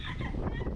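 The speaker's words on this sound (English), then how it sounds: "The goose, every time someone walks by, he makes a racket." A goose at a seaside resort honks and cackles in a short, raspy burst, fairly close and noisy against a breezy outdoor background.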